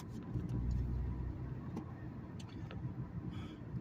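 A manual stick-shift car pulls away in gear as the clutch is let out with a little gas, giving a low, steady engine rumble that swells early and then settles, heard from inside the cabin with faint ticks and creaks.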